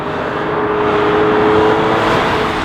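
A 2015 Audi S4 with a 6-speed S-tronic dual-clutch gearbox pulls hard in dynamic mode, its engine a loud, steady drone throughout with a faint rising whine layered on top, heard from inside the car.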